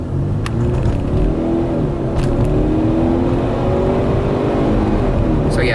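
Ford Fusion accelerating hard, its engine droning loudly and steadily and rising gradually in pitch with a few brief sharper bursts, and no talking.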